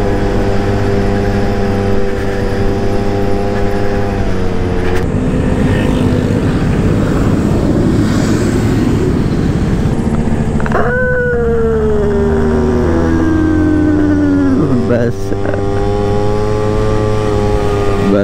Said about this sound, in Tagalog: Nagbuburok-burok sa 3/4 throttle.